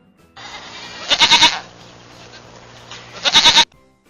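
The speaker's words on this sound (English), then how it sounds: "Goat." A goat bleats in two loud, close bursts of quavering cries, each about half a second long, separated by a quiet pause.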